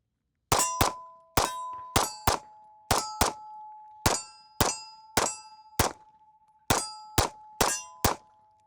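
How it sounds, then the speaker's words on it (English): A compact handgun is emptied at steel targets in a quick, irregular string of about fourteen sharp, loud metallic clangs. Each hit rings briefly before the next, with no talking. "let's throw another mag through this"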